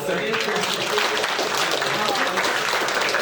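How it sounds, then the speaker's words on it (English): A keynote audience claps together after a group exercise, a brief dense round of applause with voices mixed in. "Clap it up"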